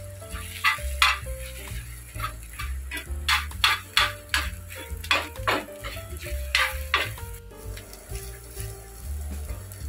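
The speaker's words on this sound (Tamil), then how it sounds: "முட்டையை இப்படி பொடிசா கட் பண்ணி நல்லா வறுத்து எடுத்துக்கோங்க." Chopped boiled eggs frying in an oil-filled pan for a Tamil-style egg curry, with a steady sizzle under repeated close scraping and stirring strokes of a spoon against the pan, alone without talk.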